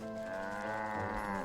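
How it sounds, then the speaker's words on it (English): A cartoonish cow moos from the video game Wytchwood, one long drawn-out low call with a rich harmonic tone, steady and fairly loud with nothing else over it. "Moo indeed."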